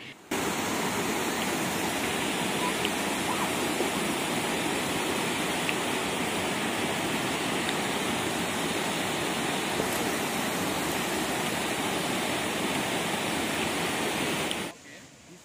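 A mountain waterfall pours down steadily in a continuous, dense rushing roar that stays loud and unbroken for about fifteen seconds, then cuts off abruptly near the end.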